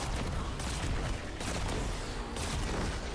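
Heavy hand cannon shots in Destiny, a video game, fire in a dense, loud burst of repeated booms with broadband crackle throughout, close and dominant over no speech.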